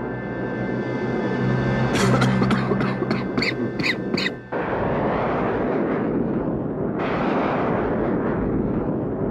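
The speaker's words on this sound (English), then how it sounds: "Kelsey, the automated defense satellite just fired on us again." Sci-fi laser fire from an automated defense satellite striking a spacecraft: a loud burst of rapid repeated zaps over a steady hum, then a long rumbling roar as the craft shudders, with a second swell near the end.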